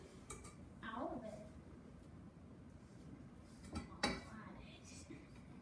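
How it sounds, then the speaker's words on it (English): Sugar cookie dough being mixed in a bowl, with soft scraping and a few utensil clinks against the bowl, faint and intermittent under quiet room noise. "Alright, mix it one last time."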